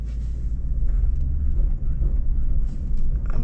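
A 2025 Lexus GX 550 Overtrail stuck off-road with a wheel spinning and digging into the ground, giving a loud, steady low engine rumble that holds throughout.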